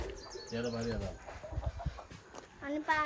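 Several brooding hens sitting on eggs in a Konkan farmyard give short, soft clucks and a few higher calls, close by, mixed with a person talking over them.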